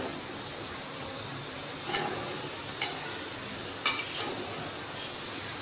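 Chopped capsicum and cabbage stir-fry in a pan for fried rice, a soft even sizzle running throughout with three or four brief scraping spoon strokes.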